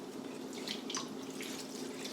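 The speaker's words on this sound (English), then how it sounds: "I'm just going to douse the root ball" A mix of hydrogen peroxide and water poured over a houseplant's root ball as it sits over a bowl, producing a soft, continuous trickle and splash with a few brighter drips, fairly quiet and close, with no voices.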